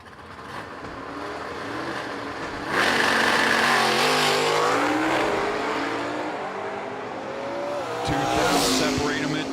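A 1968 Camaro and a 1970 Camaro launch down a drag strip, engines revving hard with rising and falling pitch sweeps, loud and close, and a second burst of acceleration near the end.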